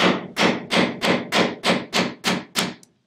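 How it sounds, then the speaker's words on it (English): A hammer pounds a nail into scrap wood in a run of nine steady, evenly spaced blows, each a loud sharp thud with a short ring-out, then stops. "So keep the hammer close to the nail and pound away."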